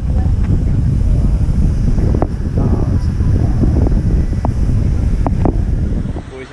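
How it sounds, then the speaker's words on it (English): Strong wind on open water while paddling across Moreton Bay, heavy continuous wind buffeting the microphone with choppy water underneath, loud and close. "it is pretty windy"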